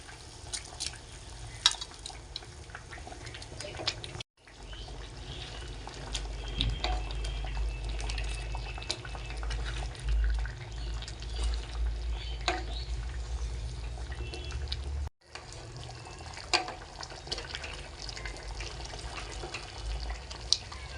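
Fried paneer pieces go into simmering milk in a pan, bringing soft bubbling, liquid splashes and spoon stirring, with two brief silent breaks along the way.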